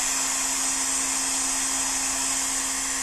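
A hot-air dryer blows steadily onto a mower motor to dry it after washing, a loud, constant whooshing hiss with a motor whine that holds at one level throughout.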